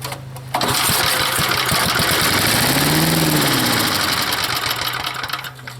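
A cheap secondhand gas-powered leaf blower, recently given starting fluid, catches and runs loud and close with a rapid buzzing two-stroke rattle that surges and revs before settling, with no talking.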